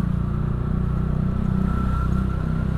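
A motorcycle fitted with an aftermarket exhaust idles inside a residential complex, giving a steady, deep, bassy rumble that stays even and continuous throughout, with no voices over it.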